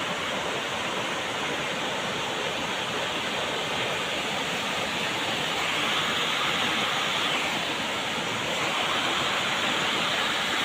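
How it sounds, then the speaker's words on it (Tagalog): River water rushes steadily in a continuous broadband roar, loud and unbroken from start to finish, with no voices heard. "Oh, ganda ng suba."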